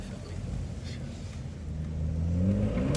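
A BMW's engine rumbles and then rises into a rev as the car slides out, heard from inside the cabin as a steady low drone that builds louder toward the end.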